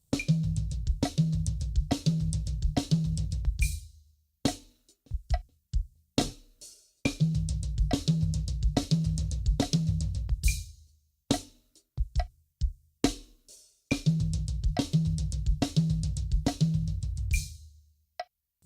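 Drum kit playing sixteenth-note triplet subdivisions on the kit, played in repeated bursts of rapid, evenly spaced hits separated by sparse single strokes, close and loud with no talking.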